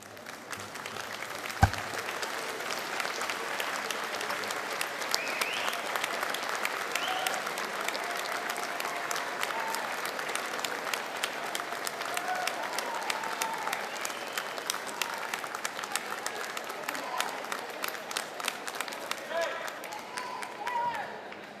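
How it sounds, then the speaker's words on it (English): A graduation convocation audience gives the graduates a long, steady round of applause, a dense wash of many hands clapping that holds evenly throughout, with one sharp thump near the start. "join me in a round of applause"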